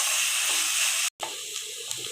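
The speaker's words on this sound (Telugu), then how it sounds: "ఉల్లిపాయలు ఎర్రగా వచ్చేంత వరకు వేపుకోవాలి" Onions frying in a pan until browned for a cluster bean kurma: an even, hissing sizzle close by, briefly interrupted by a short gap and then continuing, with no voices.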